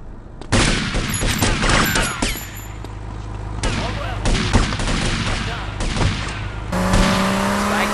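Rapid bursts of gunfire crackle through a mall shootout in GTA Vice City, loud and dense over car and engine noise, with shouted voices mixed in and a steady tone near the end.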